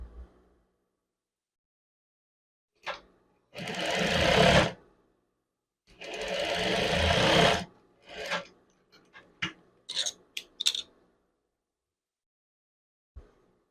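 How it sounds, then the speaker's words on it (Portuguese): Sewing machine stitching a man's chef's jacket, two sustained runs of rapid mechanical whirring close by, each lasting a couple of seconds, followed by softer fabric handling, clicks and scattered short bursts before quiet. "agora eu só passo um pé de máquina aqui."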